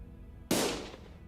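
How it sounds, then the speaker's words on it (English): A single sharp gunshot crack rings out in the video game Limbus Company, loud and close, with a reverberant decay trailing off over about half a second, and no speech over it. "Gunfire filled my ears."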